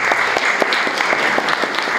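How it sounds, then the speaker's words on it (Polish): Audience at a regional art salon exhibition opening applauds the artists, with loud, steady clapping from a large gathered crowd throughout the brief moment. "Brawa dla artystów na początek"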